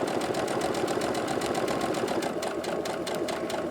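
A sewing machine stitches a zipper pouch seam with fabric pushed under the presser foot, giving a loud, steady, rapid mechanical whir with a fast repeating needle clatter throughout.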